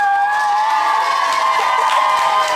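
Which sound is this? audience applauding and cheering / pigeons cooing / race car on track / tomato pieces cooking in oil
audience applauding and cheering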